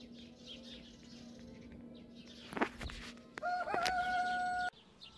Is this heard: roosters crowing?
yes